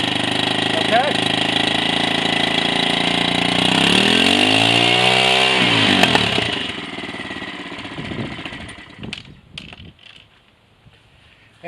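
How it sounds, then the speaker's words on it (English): Air-cooled outboard boat motor running out of the water with the prop spinning, a loud buzzy steady drone that sweeps in pitch before cutting off and fading, with a voice talking over parts of it. "it's a bit noisy because it is air cooled and it's out of the water right now"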